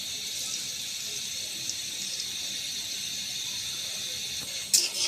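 Garlic paste with sweet cumin frying in oil, a steady faint hiss of sizzling with a brief louder crackle near the end.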